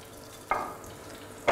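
Hot oil bubbles and sizzles softly as mozzarella deep-fries, with two louder crackling bursts as pieces are stirred or dropped in.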